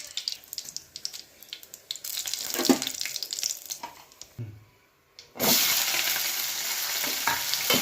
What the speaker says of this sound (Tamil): இது நல்லா வதங்கணும் மக்களே